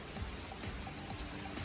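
Steady rain falls outdoors around a worksite where a 1963 Chevy C-10 truck is being restored, making a soft, even hiss with scattered drop patter and no voices.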